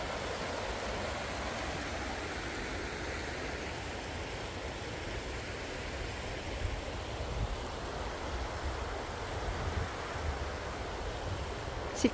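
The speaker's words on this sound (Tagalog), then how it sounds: "sa agos ng ilog. Nakaka-relax sa pakinggan." A steady, broad rush of a river flowing through forest in Lower Hutt, New Zealand fills the scene continuously, even and moderately loud, with no talking.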